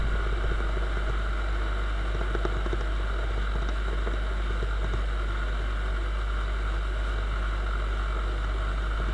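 A Viper 150 moped engine held at full throttle while riding, giving a steady, continuous loud drone with wind rush and no break for the whole stretch.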